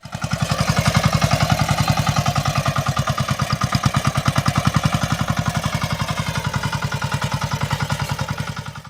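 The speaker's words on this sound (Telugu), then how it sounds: "ఎన్నో వ్యవసాయ పనుల్లో రైతుకు చేదోడు వాదోడుగా నిలుస్తోంది ఈ బుల్లెట్ ట్రాక్టర్" A bullet tractor, a motorcycle body fitted with an auto-rickshaw engine and used for farm work, runs close by with a loud, fast, even single-cylinder thumping that holds steady throughout.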